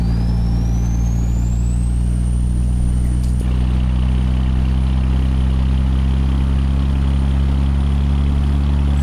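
Deep, steady diesel rumble of a Peterbilt 359 truck engine in American Truck Simulator, loud and constant with a faint rising whine early on and one short click, no talk.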